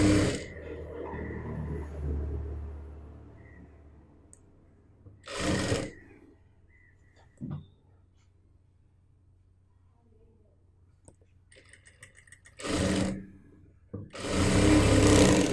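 A sewing machine stitches a churidar in a few short, separate runs of whirring, with quiet pauses and faint background noise in between.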